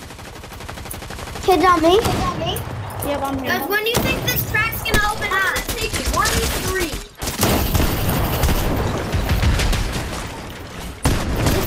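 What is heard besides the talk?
gunfire in the Fortnite video game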